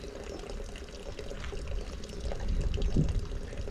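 Water trickles and pours steadily at a warm spring, a soft continuous liquid wash with gentle splashing that swells slightly toward the end.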